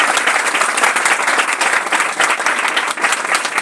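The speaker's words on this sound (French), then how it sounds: "remerciez-les avec un petit applaudissement" Sustained applause from a conference audience at a round-table session, dense, even clapping filling the room at a steady level throughout, with no voices standing out.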